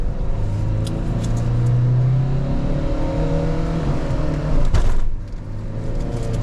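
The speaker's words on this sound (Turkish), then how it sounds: "Yavaş araba geliyor." A car rolls slowly along a road with a loud, close, steady engine rumble that swells briefly, then drops away near the end.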